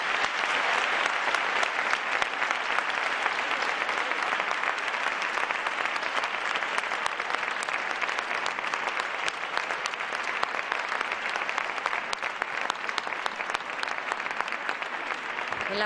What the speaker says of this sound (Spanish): un fuerte aplauso para ellas, que se lo merecen.